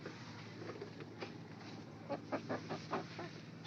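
A Rhode Island Red native chicken hen gives a series of soft, low clucks close by against quiet farmyard background.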